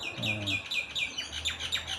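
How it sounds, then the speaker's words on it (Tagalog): Several birds chirping repeatedly in quick, high-pitched bursts in Australia, fairly close, with a low hum underneath. "Dinig yung mga ibon, mga kalakwatsero."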